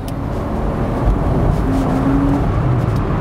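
A Porsche Boxster two-seater convertible rounds a roundabout with a steady, close rumble of engine and road noise that stays loud and even throughout, with no voices.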